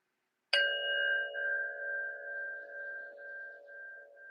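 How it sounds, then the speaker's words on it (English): A meditation bell rung once to close a practice, a bright metallic strike that hums on in a long, slowly fading ring, with a soft pulsing in the decay. Heard alone. "I'll close our practice with 2 sounds of the bell"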